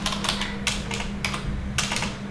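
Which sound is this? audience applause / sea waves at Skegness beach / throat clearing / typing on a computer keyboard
typing on a computer keyboard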